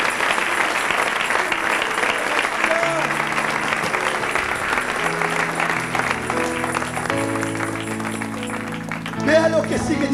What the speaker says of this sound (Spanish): Dele palmas al Rey en esta noche